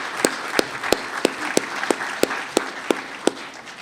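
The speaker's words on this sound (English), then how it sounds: "So I want to give them a special round of applause." Applause from an audience at a New School event, led by one close, sharp clapper beating a regular rhythm of crisp claps over a softer spread of hands behind.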